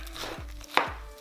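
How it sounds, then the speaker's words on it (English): A knife chops green onions on a cutting board, giving a few sparse, crisp taps with one sharper, louder strike near the end, close by and with no talking. "So let's get chopping."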